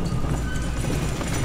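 Dead horse attack in a horror game: rapid, loud clip-clop hoofbeats pound steadily and close for a brief moment, with a low rumbling underneath.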